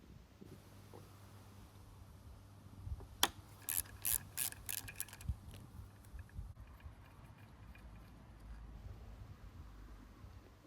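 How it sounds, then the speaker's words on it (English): A nut holding the points cam is loosened on the end of a Kawasaki Z1B 900 crankshaft, giving a quick cluster of sharp metallic clicks and ratcheting taps midway, with quiet workshop rustling before and after. "I now use a screwdriver handle to lock the crankshaft so I can release the nut on the end holding the points cam in place."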